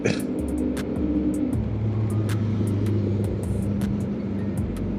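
A motorcycle engine drones nearby, its pitch dropping and rising as it revs through gear changes, with faint clicks over the steady rumble.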